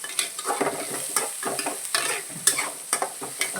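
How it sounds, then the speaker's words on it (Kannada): Turmeric powder and spices frying in a pan for Maggi noodles, a steady sizzle broken by repeated scraping stirs, close and fairly loud with no talking. "ಎಲ್ಲ ಹಸಿ ವಾಸನೆ ಹೋಗೋದು ಫ್ರೈ ಮಾಡ್ಕೋಬೇಕು"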